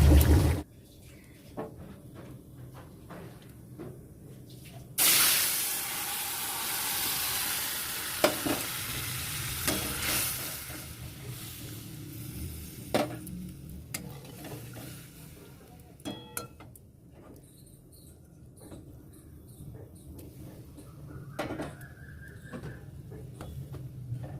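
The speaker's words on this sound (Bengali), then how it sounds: "আর কাঁচা লঙ্কার মধ্যে রয়েছে, একেবারে তেলে ছেড়ে দেবো, কালো জিরে ফোড়ন দিয়ে হয়ে যাবে" Green chillies and nigella seeds hit hot oil with a loud burst of sizzling that settles into steady frying crackle, broken by occasional clinks and stirring knocks from a spoon in the pan; no one speaks.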